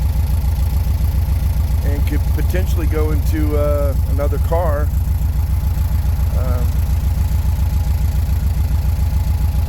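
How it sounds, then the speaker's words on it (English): A good-running 1600 engine in a 1979 Volkswagen Beetle convertible idles with a loud, steady, rhythmic low chug close by, while someone talks over it. "this engine is a good running 1600 engine"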